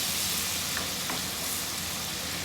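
Onions fry in a pan and are stirred with a spoon, a continuous soft sizzle with faint scraping touches, steady and moderately quiet without speech.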